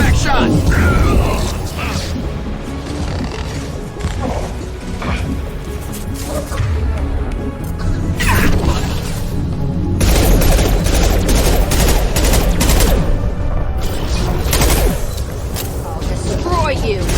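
Heavy gunfire and blasts from a high-impact shot in the video game Mass Effect 2, loud and dense with repeated booming impacts and crashes over continuous battle noise, with voices heard amid the action.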